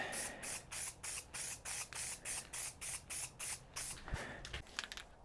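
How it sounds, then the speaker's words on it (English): Short bursts from a can of VHT spray paint during a test spray on a 1.9L ALH engine makeover, about a dozen evenly spaced hissing puffs in a steady rhythm, close and fairly quiet, with a few small clicks near the end. "A little test spray."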